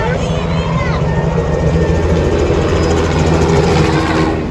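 A helicopter taking off drones and whirs at a distance along International Drive, Orlando, Florida, over a constant rumble of outdoor noise, holding steady throughout.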